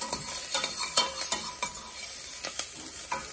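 Garlic and wilting parsley fry in a pan while a utensil stirs them, giving light scrapes and clicks over a steady sizzle, up close, with no voices.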